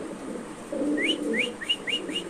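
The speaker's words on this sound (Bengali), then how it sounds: "এখানে আছে কোয়ালিটি মুন্ডিয়ান কবুতর একটা সাদা একটা হলো ব্লু চেকার" Soft, repeated coos of Mondain pigeons, one white and one blue checker, sound close by, a short series of rising calls over a low murmur of background noise.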